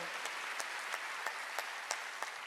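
A church congregation at a Wednesday worship service claps in a steady rhythmic beat, roughly three claps per second, faint and distant over a soft background hiss.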